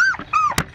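A Vizsla puppy at a fence gives two high, drawn-out whines close by, followed by a short sharper yip.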